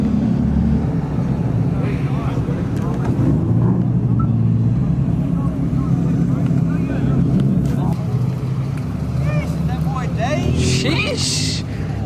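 Cars arrive at a Halloween car meet, a steady loud engine rumble filling the scene as vehicles roll in, with faint voices in the background.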